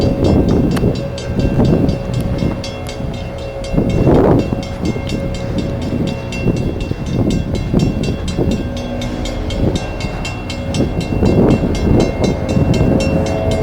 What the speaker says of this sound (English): Okay, the train is here now.